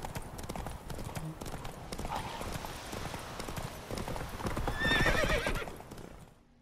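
Roach, the horse in The Witcher 3: Wild Hunt, trotting with steady rhythmic hoofbeats on a dirt road, then a loud whinny near the end before the hooves fade out.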